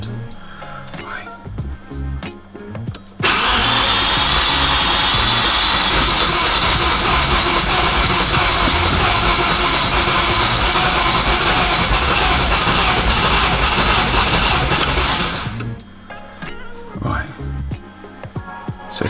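A V8 Audi S4 sitting unused for two years cranks over for about twelve seconds, a loud steady starter whir and churn with no firing, after quiet talk and muffled clatter beforehand.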